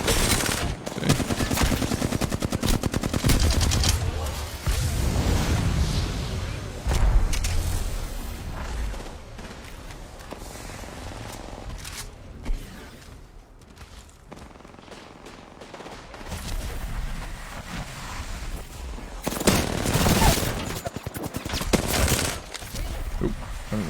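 Hip-fired automatic weapons clatter in rapid bursts in the video game Apex Legends, with several loud volleys broken by quieter pauses of game sounds.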